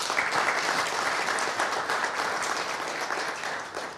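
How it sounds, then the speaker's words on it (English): Loud, sustained applause from an audience at a town hall program fills the room, a dense steady clapping that tapers slightly toward the end. "Please, one more round of applause."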